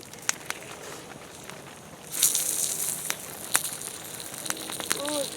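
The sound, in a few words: duck sizzling while frying on a hot rock over campfire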